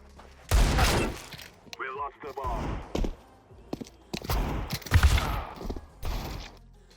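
Gunfire in the video game Counter-Strike 2: sharp, close shots and clattering impacts scattered irregularly over several seconds, mixed with someone talking.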